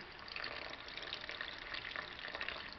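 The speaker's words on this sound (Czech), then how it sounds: "A zaliju teplou vodou." Warm water pours from a tap or vessel onto flour and sugar for pierogi dough, a soft steady splashing hiss that runs unbroken and fairly quiet.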